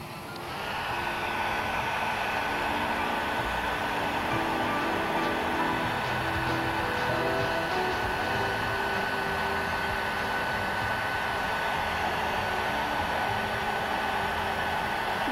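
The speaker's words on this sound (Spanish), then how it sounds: "Puse el acrílico y ahora voy a prender el secador." A hair dryer blows steadily on wet acrylic paint to make it crackle, a close, loud continuous whoosh with a faint motor whine that starts within the first second and holds unbroken with no talk.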